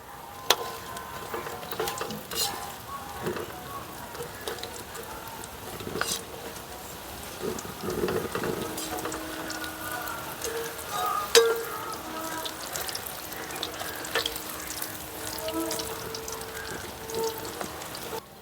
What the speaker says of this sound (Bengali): একটু সময় নিয়ে পকোড়াগুলো লাল করে ভেজে নেব